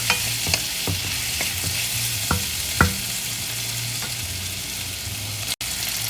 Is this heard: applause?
no